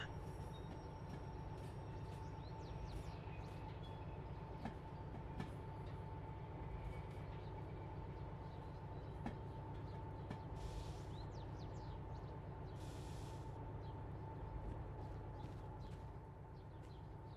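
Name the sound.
train running in a train video game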